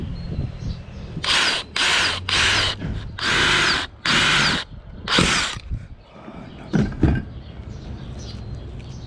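A power drill bores a hole through the hull of an Old Town Sportsman PDL 120 kayak in a series of short, loud whirring bursts separated by pauses, followed by softer handling clunks.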